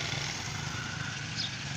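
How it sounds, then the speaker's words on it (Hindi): A 125 cc motorcycle in a village setting, its engine giving a steady, continuous hum at moderate loudness for the whole moment, with no voices over it. "खूबसूरत मोटरसाइकिल है, वीआईपी है"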